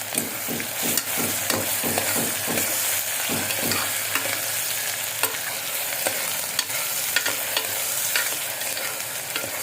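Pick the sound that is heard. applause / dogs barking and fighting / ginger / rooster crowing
ginger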